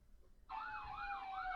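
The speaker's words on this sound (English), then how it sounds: "And then there's the sirens." A wailing siren, the kind an emergency vehicle carries, cuts in abruptly and holds steady and loud, its pitch sweeping up and down in a smooth repeating cycle.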